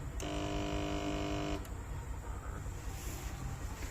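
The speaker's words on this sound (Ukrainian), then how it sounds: "на пульту, нажимаючи клавішу 1, ми запускаємо примусово масляну станцію" Oil pump station on a Kozak stone-cutting machine starting up: a steady tonal buzz sounds for about a second and a half, then gives way to a continuous broadband rushing hum at close range.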